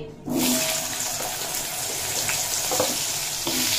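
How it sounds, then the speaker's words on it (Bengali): Raw papaya drops into the hot oil left from frying potatoes and breaks into a loud, steady, close sizzle with light stirring throughout, with no talking. "আর ওই তেলেই ভেজে নেব পেঁপে"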